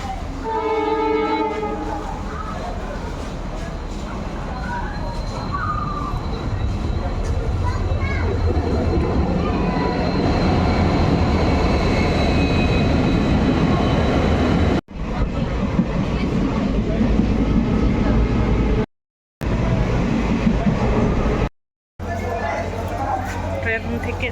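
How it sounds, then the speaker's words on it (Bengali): A train arrives at Dinhata railway station, a loud sustained rumble and rolling clatter of wagons with a horn blast at the start, with people talking on the platform throughout. "ট্রেন এখনই চলে আসবে।"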